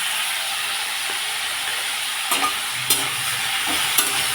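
Turmeric and salt being stirred in a frying pan, a constant bright hiss of hot oil broken by a few scraping knocks of the spatula toward the end.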